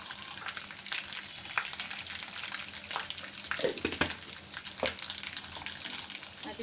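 Chillies sizzle and fry in golden-brown ginger garlic paste for chicken haleem, a steady crackling hiss with occasional stirring scrapes, close and moderately loud, no talking.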